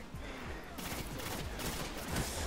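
Rapid gunfire in the Destiny video game, a dense continuous burst of loud shots with noisy crackle throughout the short stretch.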